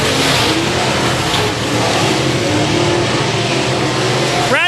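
Race cars roar around a Texas dirt speedway oval, a loud continuous engine drone with rising and falling revs as the pack passes, steady throughout.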